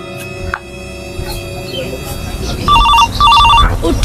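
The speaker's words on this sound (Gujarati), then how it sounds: "ફોન કોનો આવ્યા કરે તારી પર કામના ટાઈમે" Mobile phone ringing with a warbling electronic ring tone in two bursts near the end, loud and close over room hum and background noise.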